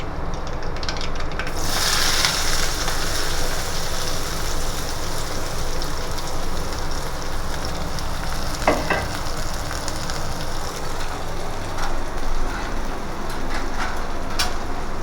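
Chopped onions sautéing in a pan with mustard seeds and urad dal for surai meen puttu, a shark fish dish. A loud, continuous sizzle fills the scene, with an occasional faint utensil clank and no voices.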